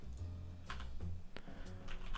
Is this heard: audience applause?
no